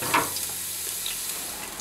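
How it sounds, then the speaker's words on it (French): Steady, faint sizzling and crackling of eggplant deep frying in hot oil, a soft continuous hiss with no talking. "C'est maintenant au tour des aubergines de passer dans la friture."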